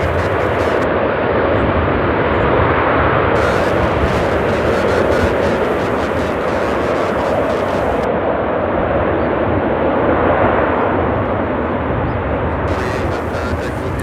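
An arriving airliner at Charlotte Douglas International Airport roars steadily and loudly in the open air, a broad continuous engine rumble and rushing noise that holds for the whole stretch without pause or speech.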